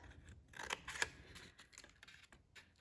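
Scissors cut through paper for a paper roller coaster column, making several quiet, close snipping sounds in quick irregular succession.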